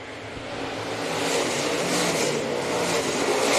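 Race cars roaring around the oval at Rapid Speedway during a Friday night race, a dense engine wail that swells louder as the field sweeps past, heard from some distance without talk.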